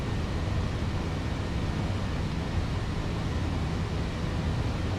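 Fenix A321 jet engines in Microsoft Flight Simulator give a steady, loud, broadband roar with a deep low rumble, continuous and unchanging throughout, with no talking.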